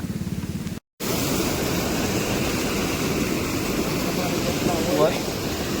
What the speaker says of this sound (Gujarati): પુલ માથે પાણી જાય છે